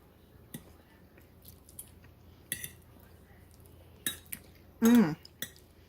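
Someone tastes a cream cheese and sour cream casserole with cutlery. Scattered clinks of fork against dish come at intervals, with quiet chewing and a brief voiced sound near the end.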